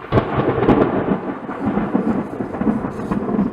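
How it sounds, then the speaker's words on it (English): Loud rolling thunder rumbles close by, heavy and continuous, with rain hissing underneath throughout. "The sound we hear is thunder."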